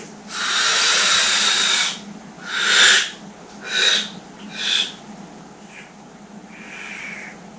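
A person breathes out slowly and forcefully several times during an apnea preparation exercise at home, a long airy hiss followed by shorter, fading puffs, close and alone.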